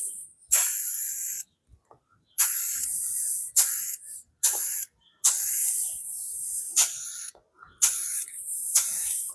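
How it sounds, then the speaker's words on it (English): Aerosol spray paint hissing onto a Vespa scooter part outdoors, with about seven separate bursts, each one to two seconds long, divided by short silent gaps. The bursts are close, bright and steady, and no one talks over them. "you got to start spraying before you get to the piece or it gets too heavy on the edges"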